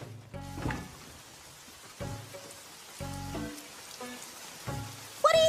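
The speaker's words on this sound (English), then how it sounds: "Hey, it's raining out here." Rain falls steadily in an anime episode, a soft wash under faint music tones, with a brief bright chime near the end.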